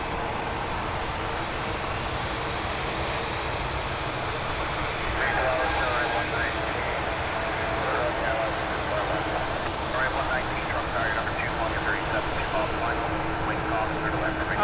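Air Canada Boeing 787-9 Dreamliner jet on a flight to Athens, its engines giving a steady broadband roar at moderate distance that swells slightly midway, with a voice talking over it.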